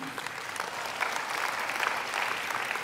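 A church congregation claps steadily and fairly loudly throughout, a dense wash of hands with no pauses or voices standing out.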